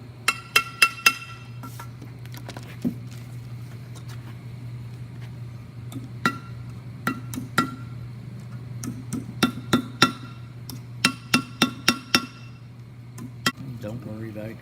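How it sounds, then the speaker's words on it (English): A body hammer strikes folded copper sheet to flatten it, giving sharp metallic taps in irregular clusters, some quick double and triple hits, over a steady low hum, with someone talking between blows. "Body hammer. Just go around your folds and fold them in and do it over and over and over again."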